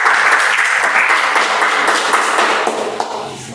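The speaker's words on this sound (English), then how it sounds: "So put your hand together and help me welcome with a huge round of applause evaluator number 1, Toastmaster Madhu." Steady applause from the audience at a Toastmasters club meeting, dense and close, holding loud before thinning slightly toward the end.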